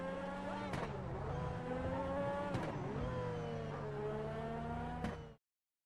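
Very high-revving X80 Proto hypercar engine in GTA V, a loud whining engine note climbing through gears with sharp shifts, alone and close, cutting off abruptly at the end.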